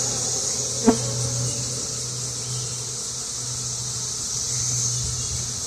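Honeybees hum steadily as a swarm is shaken off a hive frame in an apiary, a constant buzzing drone close by with one brief knock near the start.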